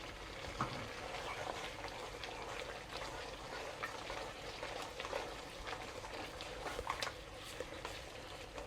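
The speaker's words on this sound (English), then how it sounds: "Once you can see that the sauce is starting to boil" Pork rib sauce thickened with cornstarch solution bubbling and sizzling steadily in a pan as it starts to boil, a continuous close simmer with soft pops throughout.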